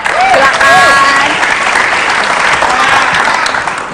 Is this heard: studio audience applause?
yes